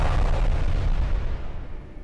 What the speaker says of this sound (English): That's a big explosion for a small airplane.